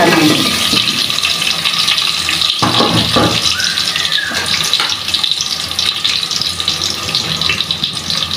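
Spiced pickle mixture coated in turmeric and chili is poured into hot oil in a pan, giving a loud, continuous rushing sizzle that stays dense and unbroken throughout, with no talk.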